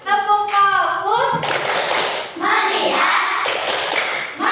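A classroom of children, led by their teacher, does the 'tepuk fokus' chant: a sung voice line gives way to bursts of group hand clapping mixed with chanting voices, loud and close throughout.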